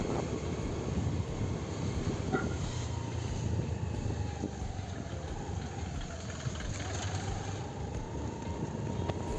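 A Honda Activa scooter carries its rider on the way to school, its engine humming steadily beneath a loud, continuous wash of wind and road noise with no voices.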